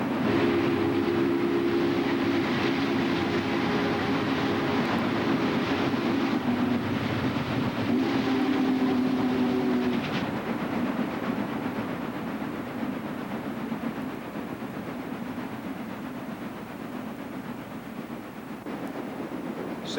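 Chesapeake and Ohio steam locomotive number 600 hauling a freight train, a loud continuous rumble and rolling clatter of cars throughout, with a sustained whistle-like tone early on that gradually eases, no talking.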